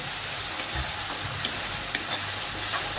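Ground raw potato sizzles in a hot pan over a low flame while being stirred and turned, with soft scraping taps over a steady frying hiss.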